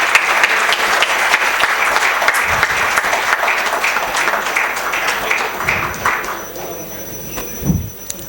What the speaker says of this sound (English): Let us please give them a big round of applause.